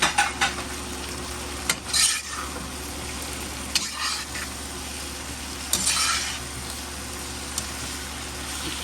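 Shrimp stir fry sizzling in a new wok, a steady frying hiss broken by occasional stirring scrapes and clinks of utensil against the pan, moderately close and fairly quiet.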